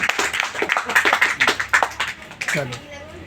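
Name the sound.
crowd clapping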